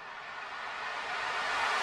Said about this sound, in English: So this is the riser I made.